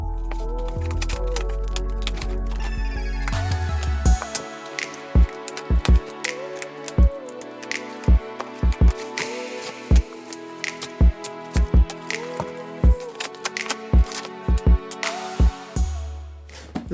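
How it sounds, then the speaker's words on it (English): Cable ties on a boxed e-bike's packaging are snipped with cutters, giving a series of sharp, close clicks at irregular intervals over a faint background of soft music. "the first step is to snip all the cable ties"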